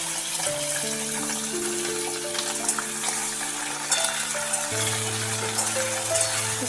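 Hog plums drop into hot oil with frying mustard seeds and red chillies, giving a steady close sizzle with light stirring scrapes, while a harmonium-like tone hums underneath; no one talks.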